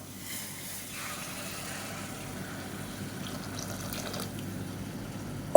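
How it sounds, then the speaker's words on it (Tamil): Hot water poured into sautéed mutton in a pot while making biryani, a soft steady trickling and splashing that runs for several seconds and ends with a brief clunk. "இப்போ இதில் வந்து நம்ம சூடு பண்ண தண்ணியே சேர்த்துக்கலாம்"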